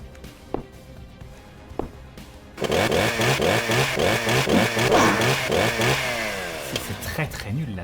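Chainsaw in the horror video game Harvester, a loud buzzing two-stroke engine roar that starts abruptly and revs with wavering pitch for several seconds, preceded by a few sharp thuds.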